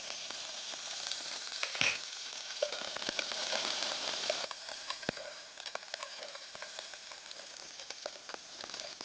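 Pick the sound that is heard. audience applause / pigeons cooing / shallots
shallots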